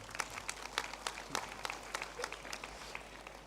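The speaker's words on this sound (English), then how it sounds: "Clap if you agree." A graduation ceremony audience claps in agreement, scattered sharp hand claps from a modest crowd, fairly quiet and distant, forming a thin patter of applause.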